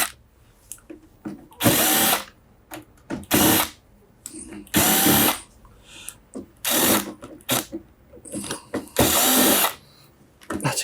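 A power screwdriver backs screws out of the rear panel of a TEAC A-3400 four-track quarter-inch reel-to-reel deck, with four loud whirring bursts of a second or so each, separated by quieter handling and clicks.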